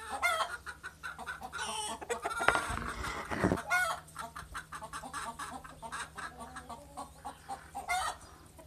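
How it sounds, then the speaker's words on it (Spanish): Hens cluck and chatter close by, with a rooster crowing briefly in the middle, scattered bird calls throughout. "Y así de feliz están mis gallinas."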